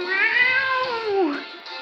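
Litten, the fire-cat Pokémon, cries in a Pokémon video game battle: a single clear, close synthesized meow that holds its pitch and then bends downward, heard alone.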